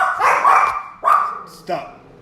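A dog barks three times in quick succession, loud and close, each bark sharp with a short trailing tail.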